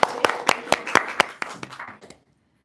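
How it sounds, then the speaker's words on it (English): Applause from a small conference audience in Mecca after a presentation, a scattering of distinct, sharp claps in an uneven rhythm that thin out and stop after about two seconds. "we can give a round of applause"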